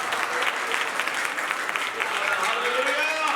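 A church congregation at an anniversary celebration meeting in Phillaur claps in praise, a dense, steady wash of applause filling the room, with voices calling out over it throughout.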